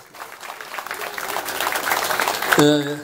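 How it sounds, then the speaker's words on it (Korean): Crowd applause at an outdoor rally in Incheon marking the 68th anniversary of the Incheon Landing, clapping that swells steadily louder before a voice on a loudspeaker cuts in at the end. "다시 한번 힘찬 박수를 부탁합니다."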